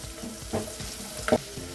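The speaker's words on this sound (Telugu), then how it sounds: "ఇప్పుడు ఎండుమిర్చి 2-3 వేసుకొని ఫ్రై చేసుకోవాలి" Quiet sizzle of dried red chillies frying in a little oil for tempering, soft crackles with a couple of brief louder spits.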